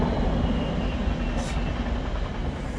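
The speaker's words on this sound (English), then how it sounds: "this massively long cargo train is just going over the" A massively long cargo train rumbles across a bridge directly overhead beside the Ridgeway National Trail, a loud, continuous heavy roar with a faint rattling texture and no break.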